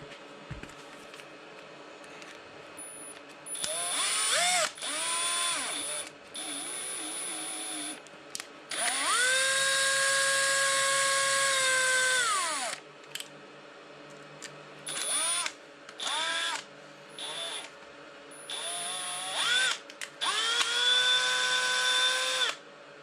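A power driver works a screw on the aluminum rear axle of an SCX10 II Honcho RC crawler: repeated short whining bursts of the motor, some longer, with pitch rising and falling as the screw fails to tighten, up close with pauses between.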